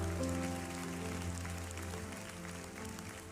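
A church congregation claps steadily, a dense patter of many hands at moderate distance, with a low musical drone underneath.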